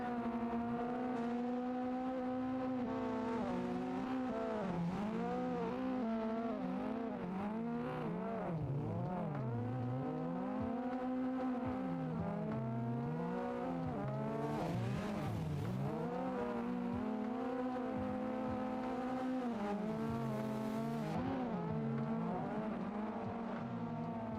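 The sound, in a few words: drifting race car engine and tires, Assetto Corsa video game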